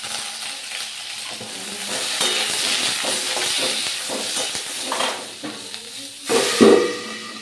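Green beans frying in a pan with black mustard seed and dried chilli tempering, giving a steady sizzle with stirring clatter and a louder burst near the end.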